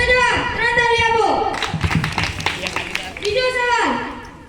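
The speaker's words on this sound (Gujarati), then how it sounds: "સાચો જવાબ ત્રણ તાળી આપો" Schoolchildren in a classroom break into a quick burst of three loud group claps, framed by children's voices chanting and calling out before and after.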